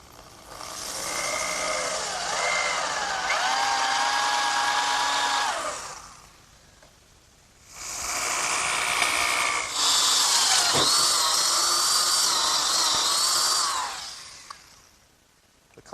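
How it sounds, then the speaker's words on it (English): A power drill with a 1 3/8 inch bit bores through a 2x4 oak block in two loud whining bursts separated by a pause, the motor pitch sagging and wavering as the bit bites into the wood. "I'm ready to drill a hole through the 2x4 in oak for my bench screw. And I'll do that with an 1 3/8" bit"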